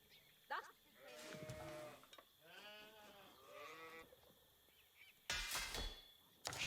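Sheep bleating in an Age of Empires-style real-time strategy match with Mongols, a few short wavering bleats in sequence, fairly close, with a sharp burst of game noise near the end and no talk over them.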